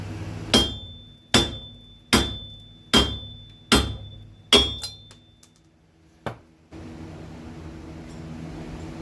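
Six heavy metallic blows from a large hammer on a 1996 Toyota Camry brake part land at a steady pace, each ringing briefly, followed by a lone lighter knock and a steady background hum.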